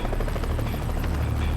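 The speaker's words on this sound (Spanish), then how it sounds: "Una y otra vez, el helicóptero se ve obligado a regresar." A helicopter hovers in strong wind over a glacier, its rotor pulsing in a loud, steady, continuous drone that fills the whole stretch alone.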